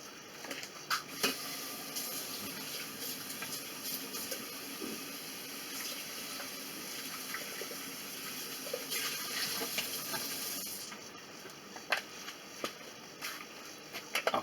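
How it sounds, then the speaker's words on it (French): Tap water runs steadily into a sink while a bowl is rinsed beneath it, a continuous wash of splashing with a few sharper clinks and splashes toward the end. No one speaks. "On va rincer notre bol."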